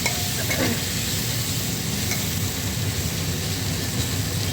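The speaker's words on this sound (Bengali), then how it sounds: "আর একটু নাড়া দিয়ে জল ঢেলে দিচ্ছি" Potato curry for luchi stirred in a pan, a close steady sizzle with repeated scraping strokes of the spoon and no voices.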